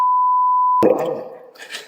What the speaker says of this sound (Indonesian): Itu di bip ya.